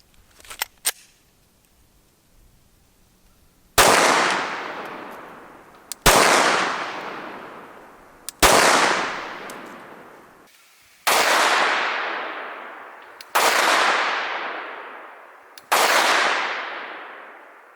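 A Glock 17 pistol fires 124 grain +P Speer Gold Dot rounds, six loud sharp shots spaced about two seconds apart, each with a long ringing decay, after a couple of faint clicks of handling.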